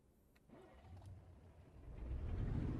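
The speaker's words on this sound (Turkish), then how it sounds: "Aracımızı çalıştıralım o zaman." A truck engine starting in Euro Truck Simulator 2 on the Kirkenes mine road, a brief crank followed by a low engine rumble that swells and settles into a steady idle, fairly quiet.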